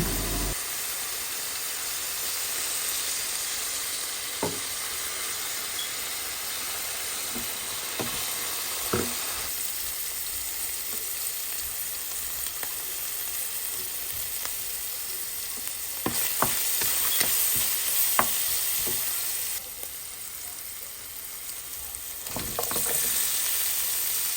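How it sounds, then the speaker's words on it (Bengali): Chicken frying with chopped garlic, ginger-garlic paste and salt, with a steady hiss of oil under intermittent spatula scrapes and taps, the sizzle surging louder partway through. "রসুন কুচি আর চিকেন ভালো করে ভেজে নিলাম"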